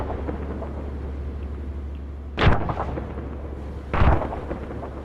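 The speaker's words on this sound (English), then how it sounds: "he's not going to run into mortar fire" Two heavy mortar impacts boom out in a military video game, spaced over a second apart, each a sharp loud blast with a rumbling tail over a steady low engine-like drone.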